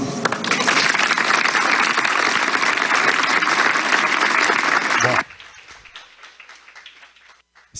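Loud, sustained audience applause at a medical school lecture in Iguatu, a dense wash of clapping for about five seconds that cuts off abruptly, leaving faint room noise and scattered small sounds.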